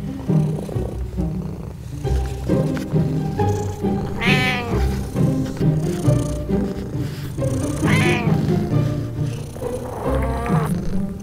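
A cat meows repeatedly, loud and drawn-out, with three rising wails spread over a continuous low rumbling background.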